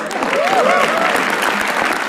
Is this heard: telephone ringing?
no